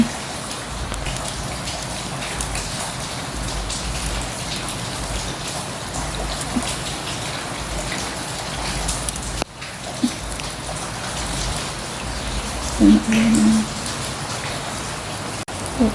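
Steady rain falling at a cemetery in the rainy season, a soft even patter of drops that holds for the whole stretch with a brief bump near the end.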